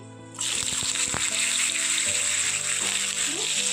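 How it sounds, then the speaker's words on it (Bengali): Potatoes dropped into hot mustard oil in a wok sizzle loudly, jumping from quiet to a sudden steady hiss with a few clinks of the utensil near the start. "তেলটা গরম হয়ে গেছে, আলুগুলো দিয়ে দিচ্ছি।"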